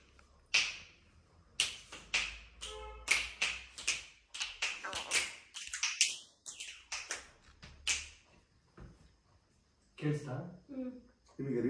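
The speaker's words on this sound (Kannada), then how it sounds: "ಸೈಲೆಂಟ್ ಆಗಿ ಬರೀ ಚಿಟ್ಕೆ ಮಾತ್ರ ಸೌಂಡ್ ಕೇಳಿಸ್ಕೊ ಆಯ್ತಾ?" Sharp finger snaps at an indoor spot during a fun day out in Bangalore, a series of crisp, close clicks in irregular rhythm, separated by short pauses, with some brief voices mixed in near the end.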